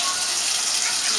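Hot water gushes steadily from a tap for cinnamon roll dough in a home kitchen, a loud, close, continuous hissing pour with no break.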